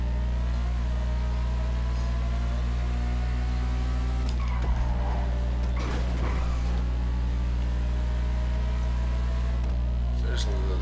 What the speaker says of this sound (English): This car sounds like a Formula 1